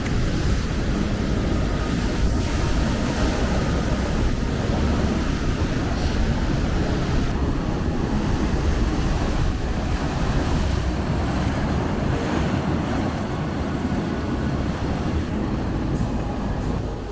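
Ocean waves crash against rugged cliffs at the Cabrillo National Monument tide pools in San Diego, making a continuous loud roar of surf mixed with wind noise.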